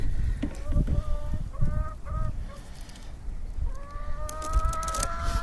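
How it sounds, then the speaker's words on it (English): Chickens cluck and squawk loudly in the background of a woodworking session, repeated honking calls in bursts over steady low noise. "I don't know if y'all can hear the chickens in the background"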